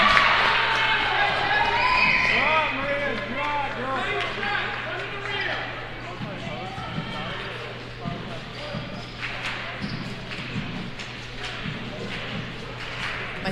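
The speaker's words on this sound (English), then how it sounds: "I hear some stomping and clapping." Crowd at a high school basketball tournament stomping and clapping in a gym, with scattered thumps and claps beneath steady commentator talk and a low hum.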